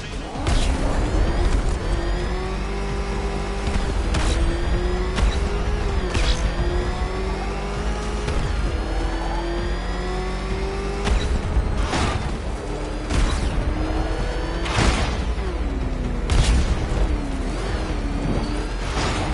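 Batmobile engine in Batman Arkham Knight revving hard while racing, with a continuous loud roar whose pitch rises and falls as it shifts, and sharp impacts and crashes punctuating the drive.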